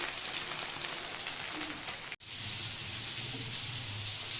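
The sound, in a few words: chicken sizzling while frying in oil until golden brown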